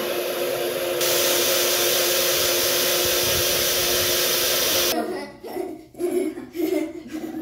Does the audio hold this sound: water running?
no